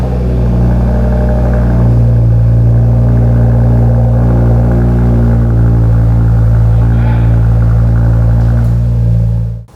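Audi RS3 fitted with an aftermarket exhaust, warm start, settling into a loud, steady, deep idle burble close by, with a faint rise partway through and no talking.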